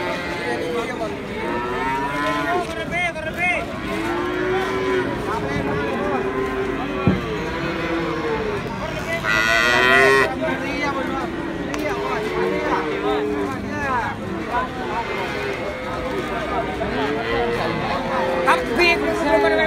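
Limousin cattle moo repeatedly amid a busy outdoor cattle market crowd, with people talking loudly over the lowing throughout.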